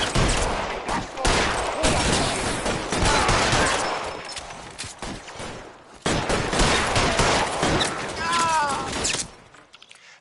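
A gang shootout in L.A. Noire, with loud, dense volleys of gunfire cracking close and rapid for several seconds. A brief lull and a final flurry come before it tapers off, and voices talk under the shots.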